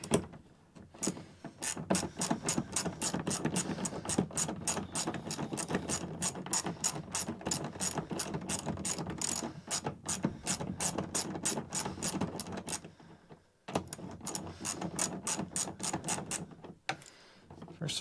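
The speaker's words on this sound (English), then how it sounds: "Then we take our little ratchet, Run it up on there." Rapid ratchet clicking drives a screw into a tube-step bracket on a 1980 Dodge W200 truck, steady close bursts of sharp pawl ticks with two brief pauses, no talk.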